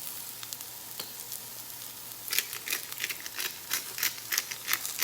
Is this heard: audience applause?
no